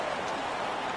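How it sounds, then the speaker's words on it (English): Steady rain falling over a Philadelphia football stadium in the Madden 26 video game, a continuous even hiss at moderate loudness without breaks. "Off we go through the rain here in South Philly."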